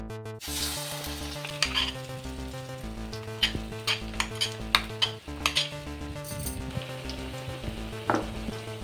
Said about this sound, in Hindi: अभी हमारी दाल फ्राई हो रही है।